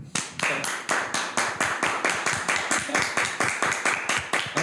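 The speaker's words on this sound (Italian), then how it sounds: "Voglio un applauso." A small indoor audience applauds, the hand claps even and dense and fairly close, steady for about five seconds without talk.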